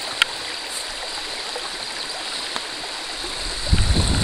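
Brook flowing near a trout pond, a steady broad rushing wash of water, fairly loud and constant, with a brief thump of handling near the end.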